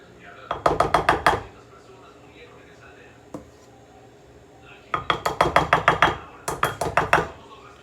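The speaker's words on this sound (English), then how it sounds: "I'm gonna put 2 cups of the beaten eggs mixture here in the cocoa mixture and I'm gonna whisk it" Beaten egg is whisked into a cocoa mixture in a bowl, heard as three bursts of quick, rhythmic metallic clinks against the bowl, separated by short pauses and one lone tap.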